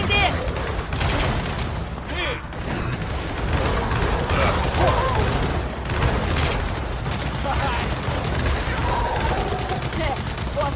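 Sustained turret fire in Gears of War 4, a dense continuous rattle of rapid gunfire and mechanical clatter running the whole time, loud and steady, with voices talking over it.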